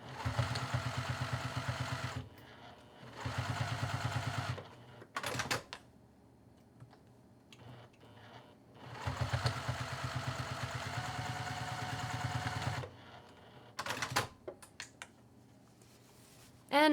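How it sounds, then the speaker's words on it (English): A sewing machine stitches a fabric sleeve for a waist bag in several bursts of rapid, even mechanical clatter, close by, separated by quiet pauses with small handling knocks. "let me get this over to the sewing machine. I'm just going to do a small bit of stitching"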